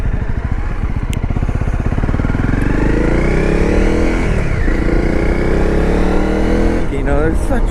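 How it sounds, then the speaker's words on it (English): A Honda 250 rally motorcycle engine revs up and down nearby, its pitch rising and falling in clear sweeps while someone talks over it. "they're such fun bikes to ride"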